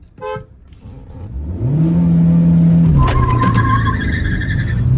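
Kia Seltos and Honda WRV accelerating hard side by side in a drag race, engine tone climbing loudly through a gear change, with a brief horn-like toot and rising whine near the end; no talking.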